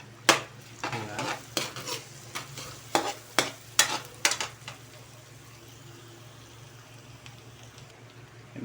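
Garlic sizzling in a pan for garlic butter chicken, with a run of sharp utensil scrapes and clacks against the pan over a steady low frying hiss that continues after the stirring stops.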